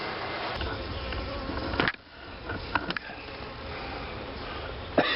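Honey bees swarm and buzz continuously around an open hive during a June beekeeping inspection in heat and humidity, a dense steady drone close up with a few brief knocks and handling sounds.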